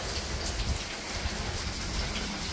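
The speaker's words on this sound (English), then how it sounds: "it's picking up a little more intensity. Some sheet rain." Heavy sheet rain from Hurricane Ian in Tampa pours down as a dense, loud, unbroken hiss with no gaps.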